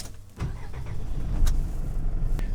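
A self-driving camper van sets off at night: a steady engine rumble rises after a soft click, with a couple of sharp mechanical clunks over the running motor.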